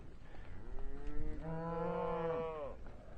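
Dexter cows lowing in a river pasture, with one long, loud, drawn-out moo swelling in the middle after shorter grunts, heard close and without voices.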